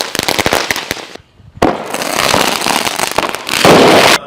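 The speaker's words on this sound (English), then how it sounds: "on our 4th of July, we're going to be rating different fireworks" Fireworks set off on the 4th of July burst in rapid, loud crackling explosions close by, with a brief lull before the barrage resumes and carries on to the end.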